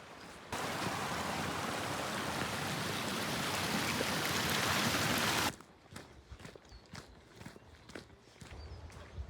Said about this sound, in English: Do you hear that water source?